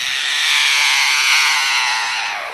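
An Australian lyrebird imitates a chainsaw with a steady, loud, buzzing drone that holds for several seconds with no breaks, close and alone.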